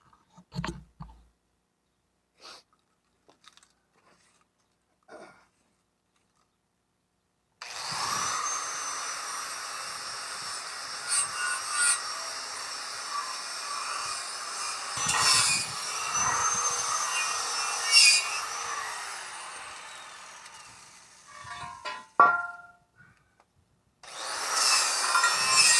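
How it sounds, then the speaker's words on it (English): Metal parts of a homemade gold ore shaker table being welded, giving a steady crackling hiss that runs for about thirteen seconds after a quiet stretch, then stops and starts again in a second burst at the end. "let me finish welding this guy up the rest"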